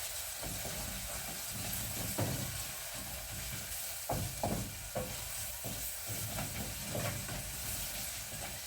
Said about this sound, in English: our onions are cooking so well